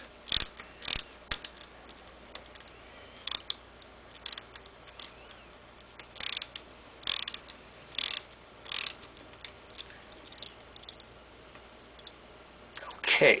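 Tightening a 400R quick release clamp on a bicycle seatpost produces a series of close, sharp clicks and ratcheting ticks at irregular intervals, with quiet handling in between and a louder burst at the end.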